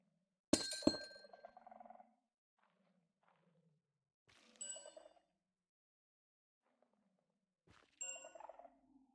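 Minecraft amethyst block chiming: three separate bright, glassy crystal chimes with tinkling overtones, spaced a few seconds apart in near silence, each ringing briefly before fading.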